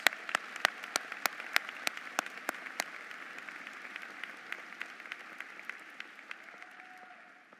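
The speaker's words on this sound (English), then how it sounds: "let's please extend one last round of applause to our newest Lyle doctoral degree candidates" Crowd applause at an SMU Lyle School of Engineering commencement for doctoral degree candidates, a soft continuous patter with one nearby pair of hands clapping crisply and evenly on top, slowly thinning out.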